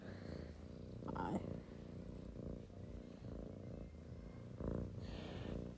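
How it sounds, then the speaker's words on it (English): A cat purring up close, a soft, low, rhythmic rumble that swells and fades with each breath, quiet throughout with faint background sounds. "Yeah, you can hear him purring."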